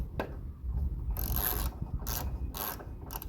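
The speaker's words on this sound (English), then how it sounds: "Then we can use our 17mm socket." A ratchet with a 17mm socket tightens a bolt on lawn care equipment, heard as several close, sharp bursts of rapid ratcheting clicks separated by short pauses.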